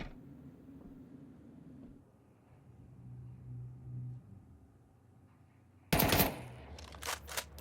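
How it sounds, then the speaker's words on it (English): Gunfire in the Counter-Strike match B8 vs HEROIC rattles out in a loud, fast burst of shots near the end, following several seconds of quiet game ambience with low hums. "a couple of shots whizzing towards KenZor"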